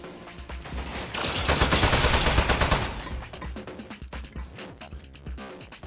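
A turret fires a dense, rapid automatic burst in the video game Aperture Desk Job, loud and sustained for about two seconds, then breaks into scattered clicks and clatter.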